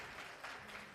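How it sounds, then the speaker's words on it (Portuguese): Students clapping for a teaching assistant in a university calculus lecture, a steady patter of applause throughout the short moment. "Palmas para o nosso monitor ali."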